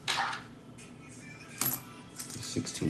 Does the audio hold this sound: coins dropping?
yes